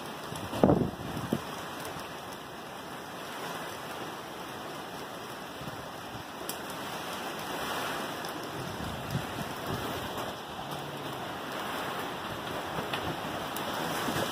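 Strong wind roaring during Typhoon Ulysses in Angeles City, Pampanga, Philippines, as a steady broadband rush with gusty swells and a rain-like hiss, continuous throughout and without speech.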